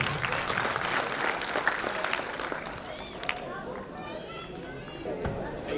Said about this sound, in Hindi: पूरा सदन एक बार जोरदार तालियों से आदेशित करें आदरणीय दीपिका मई